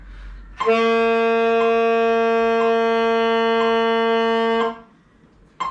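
A single steady alto saxophone tone held for about four seconds, close and clear, with a firm start and a clean release.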